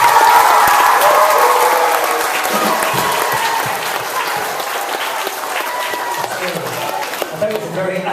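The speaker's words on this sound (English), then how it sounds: "So give him a big round of applause." Audience applause for Phil, a longtime band member, bursting loud right away, then settling into a steady, slightly softer wash of clapping that carries on for several seconds.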